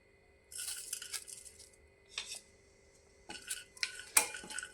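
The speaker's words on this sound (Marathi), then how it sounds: "तर सर्वात पहिले आपण थोडासा खडा मसाला भाजून घेऊया." Whole spices are dry-roasted and stirred in a pan, giving sparse metallic clinks and scrapes of a utensil against the pan in short bursts separated by quiet pauses, close and fairly faint.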